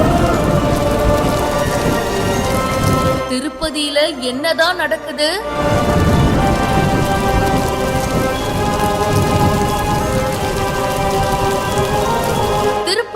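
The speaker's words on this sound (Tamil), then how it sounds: "கொட்டி தீர்த்த கனமழை." Heavy rain pours down steadily at the Tirupati hill temple, a loud dense wash with rumbling thunder, briefly broken by a burst of distorted noise, while someone speaks over it.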